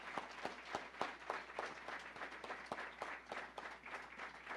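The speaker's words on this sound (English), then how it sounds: "Big round of applause for our greatest generation here in the front row." Audience applause at a 2018 award ceremony honoring veterans of the greatest generation, a steady wash of many hands clapping with some sharper individual claps, sustained at moderate loudness with no talk over it.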